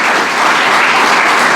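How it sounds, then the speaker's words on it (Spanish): A church congregation applauds loudly and steadily, a dense wash of many hands clapping together with no talking over it. "denle un fuerte aplauso al Señor"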